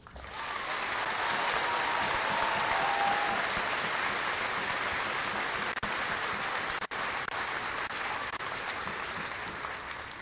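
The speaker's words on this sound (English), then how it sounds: "please join me in a round of applause to honor the tireless work of our drill sergeants" A large crowd at an army basic training graduation ceremony at Fort Jackson applauds the drill sergeants, broad sustained clapping from a distance that holds steady for about ten seconds and then thins out.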